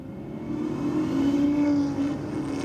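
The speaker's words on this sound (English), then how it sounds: "Listen to the roar of that V8 coming from the truck." A Ram truck's V8 roars down a drag strip against an Audi RS3, a loud, sustained engine drone that swells and holds for a couple of seconds, then eases slightly as it passes.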